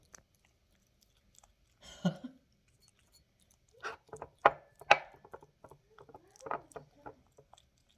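A pet eating food, with scattered soft chewing and crunching bursts, close and fairly quiet, separated by short silences.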